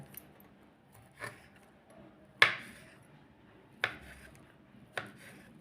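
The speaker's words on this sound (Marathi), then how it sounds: "आता आपण ह्या रोलच्या सगळ्या वड्या पाडून घेऊया वड्या अशा कापून घ्यायच्या" A knife slicing through an egg roll on a board, four or five distinct thuds spaced about a second apart, close and crisp against a quiet room.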